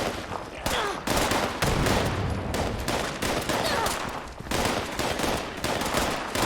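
Gunfire in Fallout 76, dense rapid bursts of automatic shots and volleys, loud and near, broken by brief pauses, with almost no talk.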